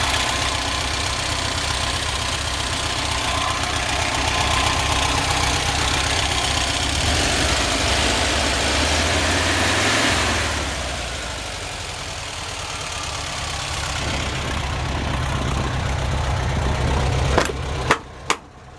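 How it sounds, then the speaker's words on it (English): A 1994 Volkswagen Type II bus engine with dual carburetors idles steadily and close by for most of the stretch, with a slight shift in tone midway and a couple of sharp knocks near the end. "So we just had the engine dialed in,"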